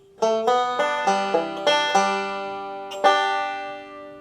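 A quick banjo lick from "I'll Fly Away" of bright plucked notes in a short rhythmic run, ending on a ringing chord that fades out.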